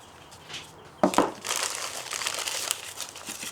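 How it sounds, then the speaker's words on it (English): A plastic parts bag holding a replacement sway bar ball joint, washer and bushings is torn open up close, a sharp rip followed by continuous crinkling and rustling of thin plastic, with no talking. "Open up the bag"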